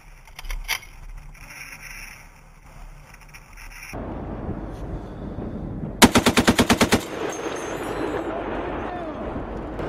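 A U.S. military M2 Browning machine gun fires a short burst of about eight evenly spaced, loud, booming shots during a training exercise. Wind and engine rumble run underneath, with quieter noise before.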